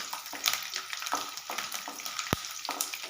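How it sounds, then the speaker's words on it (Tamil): Garlic fries in oil with curry leaves, a soft crackling sizzle broken by stirring scrapes and one sharp knock against the pan. "இப்போ கருவேப்பிலை பொரிஞ்சோன்னே நம்ம எடுத்து வச்சிருக்கிற பூண்டை போட்டுக்கலாம்"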